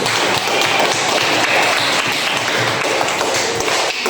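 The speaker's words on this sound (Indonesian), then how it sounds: "Tepuk tangan buat sirik." Applause from a classroom of students, a dense steady patter of clapping that fills the whole short stretch at close range.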